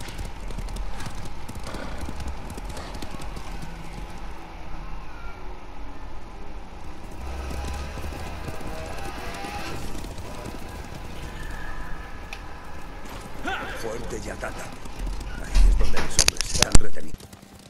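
Horses gallop in Ghost of Tsushima as a group of riders sets off, a steady run of hoofbeats under game music and talk, then a few louder thumps close to the end.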